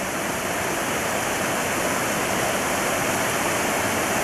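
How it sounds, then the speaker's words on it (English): Small stream in Arizona near the Grand Canyon, water flowing steadily as a loud, continuous broadband rush that fills the whole clip, with no voices. "Here we're at a nice little stream."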